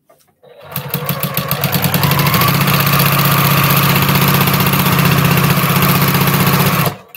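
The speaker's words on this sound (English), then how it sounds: "It pulls it on through the feed of the sewing machine." A sewing machine fitted with a walking foot stitches through a postal stamp quilt top, running as a loud, steady, rapid mechanical whir and clatter for several seconds before stopping.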